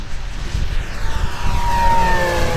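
An RC Super Tucano warbird model plane makes a full power pass, its propeller engine whining loudly as it sweeps by with a falling Doppler pitch and a steady rising roar.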